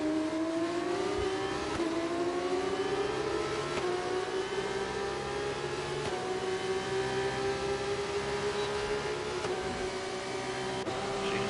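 Simulated racing-car engine in an F1-style game, a steady high whine slowly rising in pitch as the car accelerates flat out along the main straight, loud and continuous with no talking.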